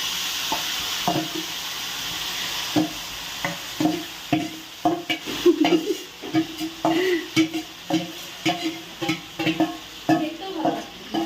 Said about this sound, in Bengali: মাংসটাকে পুরো ম্যারিনেট করে রেখেছিল এবার চলে যাচ্ছে কড়াইয়ের মধ্যে